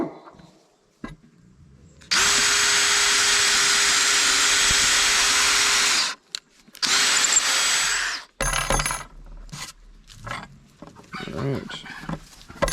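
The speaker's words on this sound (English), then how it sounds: "Use a 1/4 inch drill bit for this one" A power drill with a 1/4 inch bit whines steadily for about four seconds while boring a hole, then gives a shorter second burst, followed by scraping and handling noises.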